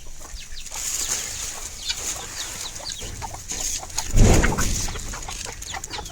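Farm chickens cluck and squawk while being fed grain. Overlapping calls come from several birds nearby, with a brief flurry of flapping wings and a louder rustle near the end.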